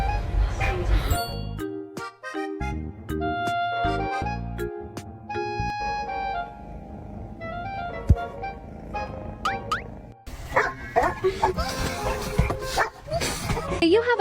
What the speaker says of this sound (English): You have a jealous dog without saying you have a jealous dog.